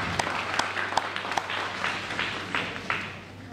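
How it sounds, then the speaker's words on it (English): A small audience at an elementary school dedication ceremony claps briefly, a sparse patter of individual hand claps at moderate distance that fades within a few seconds. "Why don't we give her a big round of applause?"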